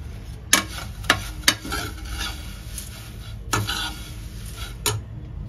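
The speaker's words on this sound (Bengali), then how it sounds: "লো ফ্লেমে এই চিড়েটাকে একটুখানি ফ্রাই করে দেবো, ড্রাই রোস্ট করব।" Thin flattened rice (chire) dry roasting in a pan over low flame, stirred with a steady rasping, rustling scrape and occasional sharp knocks of the spatula against the pan, close up.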